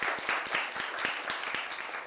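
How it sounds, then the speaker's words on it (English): Brief, fairly quiet audience applause at an AI innovation challenge pitch, a short burst of clapping with distinct claps over a hazy wash. "Give applause for sticking with it."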